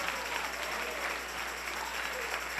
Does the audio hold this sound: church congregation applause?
yes